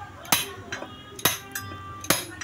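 A hammer strikes a motorcycle torque drive bearing three times at a steady pace to knock it loose, each blow sharp and metallic with a ringing decay, close and loud with no talk in between.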